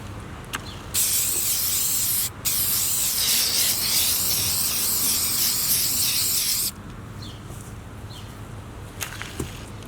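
A spray can of paint hisses in one loud, steady burst for several seconds with a brief pause near the start, then stops, leaving a quiet room.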